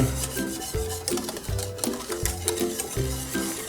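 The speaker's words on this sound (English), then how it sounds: "You have to really whisk it while you put those in" Grits being whisked in a pot on the stove, a steady scraping, rubbing swirl that repeats in even strokes roughly twice a second, close up and without voices.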